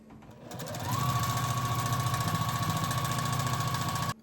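A sewing machine stitches quilt scraps for a crazy quilt block, starting up and running at a steady fast rhythmic whir for about three seconds before stopping abruptly, close by.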